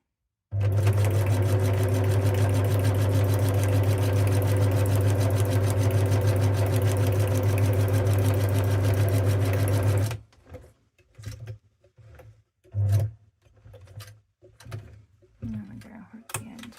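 Close, loud sewing machine stitching fabric journal cards in one steady hum for about ten seconds. After it stops come scattered clicks and handling knocks, with a voice talking quietly near the end.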